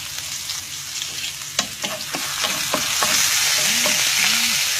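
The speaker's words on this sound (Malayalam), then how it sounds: "ഇത് നന്നായിട്ട് ഫ്രൈ ആവണം സവാളയും ഇതൊക്കെ നല്ല ഫ്രൈ പോലായി വരണം" Chopped onion and curry leaves frying in a pan, starting with a few scraping stirs and clinks that give way to a building, steady sizzle, close and fairly loud, without any voices.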